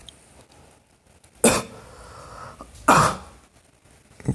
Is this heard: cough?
yes